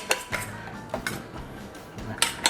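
Eggs are beaten with water and lime in a bowl for a fluffy, crispy Thai omelette, heard as a few sharp clinks of utensil on bowl with soft swishing in between, close up and brief.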